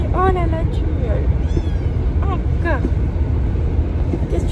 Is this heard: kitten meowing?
yes